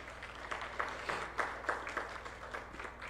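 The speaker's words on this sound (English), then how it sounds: "Give yourself a round of applause" Scholarship awardees at a public sector graduate awards ceremony receive a modest round of audience applause, a steady patter of many hands, fairly quiet and distant, over a faint electrical hum.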